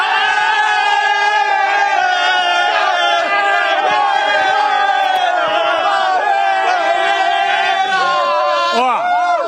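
Palmeiras football supporters gathered outside before a Libertadores match against Bolívar chant and sing loudly in unison, a sustained, near crowd roar with melodic voices throughout.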